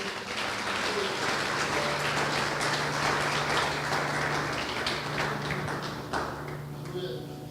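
A church congregation claps steadily during a sermon, a dense, continuous patter of many hands with a constant low hum beneath, easing slightly toward the end.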